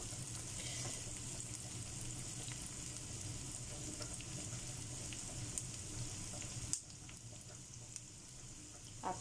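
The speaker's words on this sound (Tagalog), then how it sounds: "nakalagay na yung sibuyas, yung onion. Ipa-fry lang natin." Chopped onion frying in a pan for sardine spaghetti, a steady close sizzle that runs without a break, with a few faint clinks and one sharp knock near the end.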